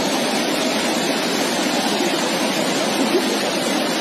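Swollen river water rushes beneath a broken bridge in Kinnaur, a loud, steady, unbroken roar of churning flow that fills the whole scene.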